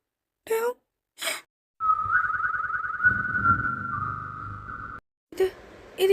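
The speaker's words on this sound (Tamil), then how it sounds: "ஏன் விசில்?" A sustained whistled tone, rising and wavering, holds for about three seconds between short breathy gasps and sighs, fairly close and clear, with low rumbling beneath it.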